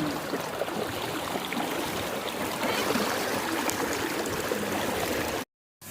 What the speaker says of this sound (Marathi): गार असं पाणी वाहत होतं पायाला स्पर्श करत होतं